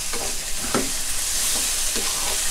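Pork belly fries in a pan over lowered heat, a steady close sizzling hiss broken by a few soft scrapes of stirring.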